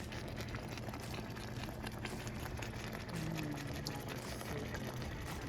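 A pot of vegan chili simmers with soft, low bubbling and quiet gurgles, faint and steady throughout with no talk.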